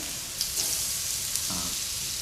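Garlic sizzles in a ladleful of oil on a hot griddle, a steady close hiss with a few small pops and crackles, no talking over it.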